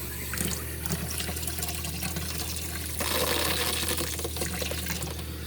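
Water runs steadily from a tap being checked for hot water, a continuous loud splashing rush into a sink with a slight shift in tone partway through, no voices over it.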